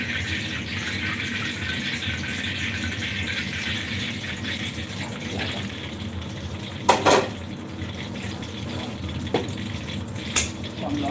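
Khanom khai nok snacks fry in bubbling oil, a constant hiss and bubble with occasional metallic clinks of a utensil against the pot.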